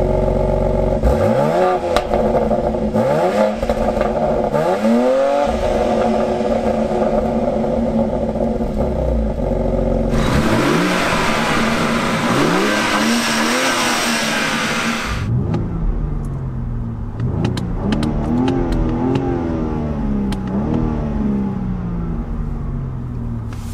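Cars in a drag race, including a BMW X3 M with a 3-liter twin-turbo straight six, accelerate hard through rising revs and quick gear shifts. The loud engine roar is heard close and sustained, with a brief switch to another vehicle partway through.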